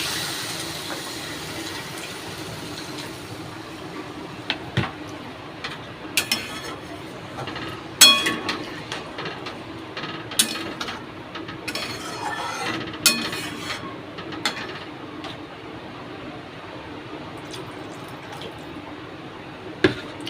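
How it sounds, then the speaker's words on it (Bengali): Water is poured into a cooking pot of sautéed spices on a home stove, giving a soft running, filling sound with scattered clinks of utensils and dishes nearby. "এবার জল দিয়ে দেব।"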